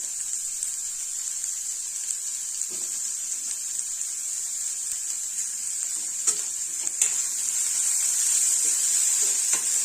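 Onion and capsicum sautéing in hot oil in a pan, a steady bright sizzle running throughout with a few soft clinks and stirring scrapes, close up and with no one talking.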